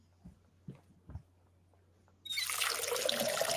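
Water pours in a video game: a few soft clicks, then a sudden loud, steady rushing splash that fills the rest of the clip, with no voices.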